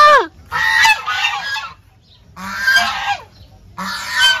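Farmyard ducks or geese give loud, close bursts of honking quacks in three to four separate calls with short quiet gaps between them.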